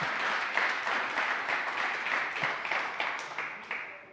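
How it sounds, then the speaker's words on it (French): A small gathering at an association's annual general meeting claps, the individual hand claps distinct and uneven, fairly faint and slowly tapering off over a few seconds. "Oui, vous pouvez applaudir."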